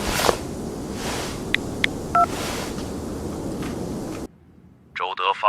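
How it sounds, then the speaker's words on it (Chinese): A phone keypad beeps several times in short, clear tones over a steady rain-like hiss, then the hiss cuts off and a voice begins speaking. "你马上打电话"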